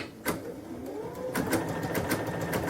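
A home sewing machine runs a long basting stitch, a steady mechanical whir with rhythmic needle clicks that grow quicker and more regular after a short start, close and moderately quiet.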